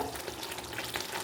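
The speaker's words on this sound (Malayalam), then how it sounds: "ഇപ്പോൾ കണ്ടോ നന്നായിട്ട് തിളച്ച് വന്നിട്ടുണ്ട്" A thick Kerala-style roasted-coconut curry with spring onion stalks and potato bubbles in a pan on a gas stove, giving a soft, steady simmering hiss close by, faint and continuous without any talk.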